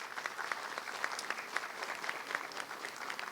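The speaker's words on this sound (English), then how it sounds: "Let's give them a round of applause and thank them" Guests at an adult education graduation ceremony give a round of applause, a soft and somewhat distant patter of many hands clapping steadily throughout.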